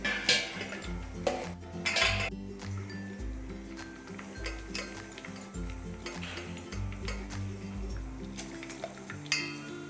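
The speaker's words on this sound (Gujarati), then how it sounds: "તો આ રીતે આપણે થોડો પલ્પ એડ કરતા જઈશું અને તેને ચમચાની મદદથી નીચે ગાળતા જઈશું" A spoon presses mashed tomato pulp through a metal strainer, making close, repeated scraping and clinking of metal on metal under a steady low hum, with a few sharper clinks and no speech.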